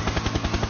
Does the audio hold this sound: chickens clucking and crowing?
no